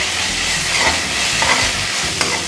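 Ginger garlic paste frying and being stirred in hot oil for potato Manchurian, a continuous close sizzle with scraping stir strokes and a brief clink near the end.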